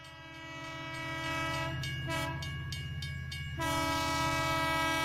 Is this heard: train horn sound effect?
yes